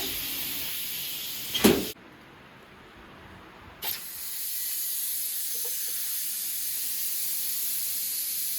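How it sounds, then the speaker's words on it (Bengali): A pressure cooker cooking rice with potatoes releases steam: a sharp burst, a short lull, then a loud, steady hiss that carries on without voices. "সিটি 4টা দিল।"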